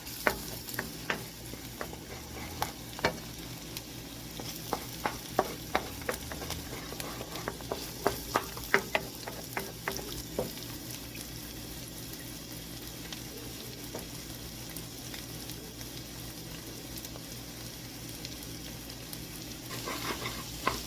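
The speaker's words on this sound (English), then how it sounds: "bust those 2 eggs in there, you get the shell out, and you just kind of cook them down on the side" Two eggs fry and get scrambled in a pan on the side, with a steady sizzle under repeated scraping and stirring taps of a utensil, close and continuous.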